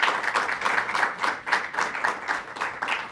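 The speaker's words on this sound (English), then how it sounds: "Let's give a round of applause for Despina Garcia." A small group clapping for a nurse at a COVID-19 briefing, the claps coming in uneven pulsing bursts, fairly close and moderately loud for about three seconds.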